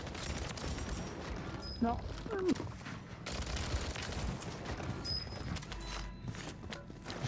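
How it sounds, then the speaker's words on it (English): Faint, scattered shotgun blasts in the battle royale game Call of Duty Warzone, heard at a distance among other game noise while a person talks over them. "I hear shotguns."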